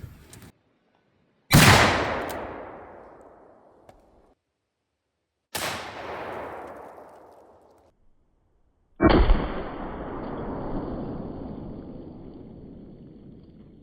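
A deer shotgun fires at airplane windshields, three loud booming blasts spaced a few seconds apart, each followed by a long decaying echo, with no talk between them.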